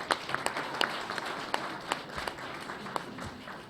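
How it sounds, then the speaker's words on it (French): A smaller group applauds the mothers present at a gathering, with scattered, distinct claps standing out over a soft, continuous background of clapping. "Je voudrais qu'on applaudisse toutes ces mamans qui sont là."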